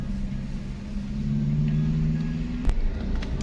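A car engine pulls steadily up a slope, a low continuous drone with a rising tone near and alone, ending in a short click.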